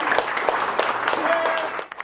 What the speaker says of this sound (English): Some cheered and clapped.